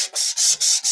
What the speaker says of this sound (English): I'm going back with the finer sanding pad just to even out